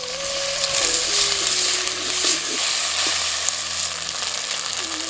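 Chopped tomatoes added to onions sizzle and fry in hot oil for a country duck curry gravy, a steady crackling hiss with occasional stirring scrapes, close and loud.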